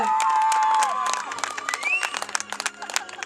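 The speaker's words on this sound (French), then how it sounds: "on peut applaudir." Spectators at a show jumping event in Saint-Lô applaud and cheer the Normandy champion, a short burst of clapping that fades while an announcer talks over it.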